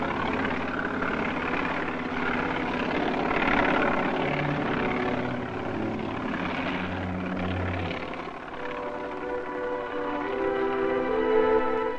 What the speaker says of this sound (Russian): Оперативные переброски производились на вертолетах.